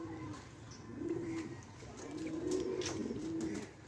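Racing pigeons back from a 10-kilometre race coo in low, rolling phrases, two or three calls in a row, fairly close and soft against a quiet background.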